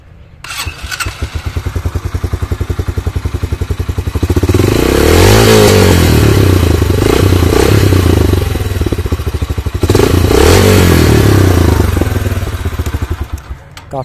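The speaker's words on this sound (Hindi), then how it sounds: "एक मैं आपको साउंड टेस्ट करवा देता हूँ दोनों बाइक्स का" A Yamaha YBR 125G motorcycle engine starts, then idles with a steady close thump and is revved twice in long rising-and-falling pulls, loud and near throughout.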